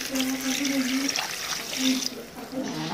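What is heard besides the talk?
water being poured into a cooking pot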